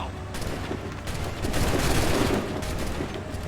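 Musket volleys in the video game Assassin's Creed III, with a dense, continuous crackle of massed gunfire that swells toward the middle.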